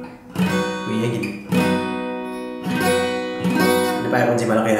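Acoustic guitar strummed in barre chords, four bright full strums ringing out in steady rhythm, close and loud with no talking.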